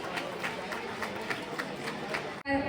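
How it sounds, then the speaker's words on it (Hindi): A crowd at a village ceremony in Bhora Kalan, Pataudi block, claps steadily in an even, rapid rhythm over a murmur of voices, ending in an abrupt cut to a brief tone. "एक बार जोरदार तालियां, और तालियां बंद नहीं होनी चाहिए, लगातार तालियां बजाते रहिए।"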